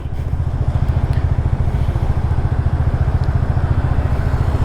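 A TVS Ntorq 125 scooter engine runs close by with a loud, steady low putter. Fast regular pulses continue evenly throughout, with no voices.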